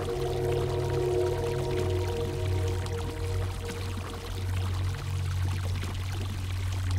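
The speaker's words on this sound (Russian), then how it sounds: "Водой кольцо смой." Water pours in a steady, continuous stream to rinse off a ring in the horror game Revenge of the Colon, lasting several seconds over a low background hum, with no speech.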